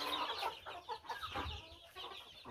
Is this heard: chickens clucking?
yes